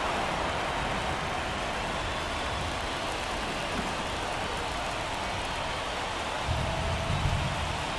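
Steady rain pours over a ballpark in the MLB The Show 24 baseball game, a dense, even hiss that fills the whole stretch at constant loudness, with no voices over it.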